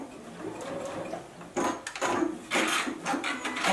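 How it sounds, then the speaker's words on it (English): A JUKI sewing machine back stitches on a beverage coaster, giving a close mechanical whir in short bursts that start and stop over a few seconds. "I'm just going to back stitch"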